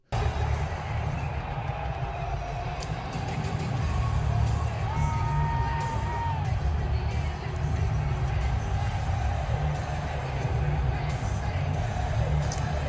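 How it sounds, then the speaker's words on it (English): A UFC arena crowd roars as Donald Trump enters, a dense, sustained wash of cheering and shouting that swells after the first few seconds and holds steady to the end. "here's how the crowd sounds when Donald Trump enters the room in a UFC fight"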